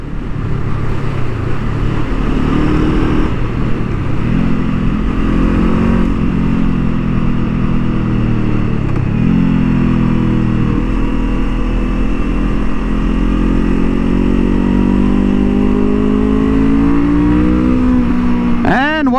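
A 2023 Honda CL 500 motorcycle engine roars continuously while accelerating on a racing track, a loud, steady drone with rising and falling pitch as it revs through gears, heavy wind rush throughout and a sharp rev climb at the end.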